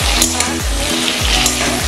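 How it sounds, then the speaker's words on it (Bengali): Pointed gourd (potol) frying with sugar in a pan, a loud close continuous sizzle with soft stirring movement underneath. "আমি চিনি দিয়ে ভেজে নিচ্ছি"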